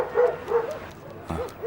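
A dog barks in several short, sharp yips and woofs at close range during an indoor scene from a French crime-comedy drama series, with brief pauses between the bursts.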